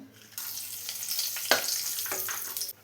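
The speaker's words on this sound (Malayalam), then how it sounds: "ഇപ്പോൾ ഒരു പാൻ വെച്ച് 2 ടേബിൾ സ്പൂൺ വെളിച്ചെണ്ണ ഒഴിച്ചു കൊടുത്തിട്ടുണ്ട്. അതിലേക്ക് നമുക്ക് ഹോൾ സ്പൈസസ് ഒന്ന് ഇട്ട് കൊടുക്കാം." Whole spices drop into two tablespoons of hot coconut oil in a pan, bursting into an abrupt, bright sizzle that runs steadily with one sharp clink before cutting off, no voices present.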